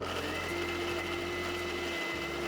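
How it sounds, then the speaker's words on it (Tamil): Mixer grinder motor running steadily on boiled small shallots, a continuous loud whirring hum with a strong tonal drone, briefly dipping near the end as if switched off and on. "நான் பல்ஸில் வச்சுட்டு ஒரு ரெண்டு மூணு தடவை ஆன் பண்ணி ஆஃப் பண்ணேங்க"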